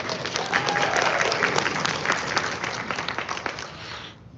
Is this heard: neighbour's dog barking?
no